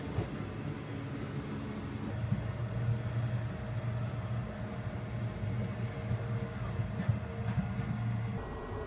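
Steady low rumble and hum inside a moving overnight train carriage in India, with faint rattles and occasional clicks, no talking.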